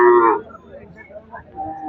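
An ox at a rural cattle market gives a loud, close moo at the start, followed by quieter low grunts and faint market noise.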